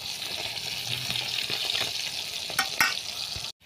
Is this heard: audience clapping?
no